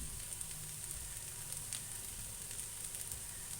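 Potatoes for aloo fry frying in a pan, a steady close crackling sizzle with fine spattering pops running throughout, no voices over it.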